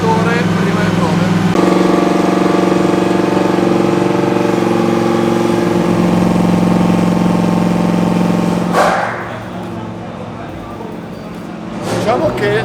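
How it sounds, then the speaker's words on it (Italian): A Lamborghini race car at the Hockenheim circuit idles loudly and steadily while warming up before practice, its deep engine note holding for several seconds before dropping away, then rising again briefly near the end. "sta scaldando bene la macchina, sta scaldando il cambio, il differenziale, il motore prima delle prove"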